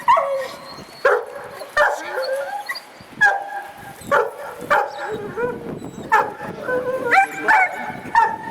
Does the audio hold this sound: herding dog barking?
yes